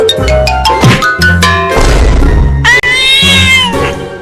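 Cartoon cat meowing and caterwauling loudly in a comedy cartoon, a series of drawn-out, whiny yowls with shifting pitch, close and dominant, with brief gaps between calls.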